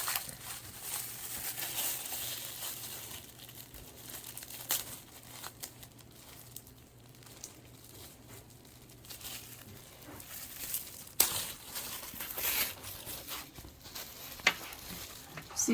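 Plastic packaging crinkling and tearing as a packaged lifelike reborn doll is unwrapped, a soft continuous rustle with a few sharper crackles, close up and with no talking.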